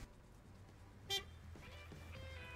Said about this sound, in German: Was ist das denn wieder für ein Gehupe hier?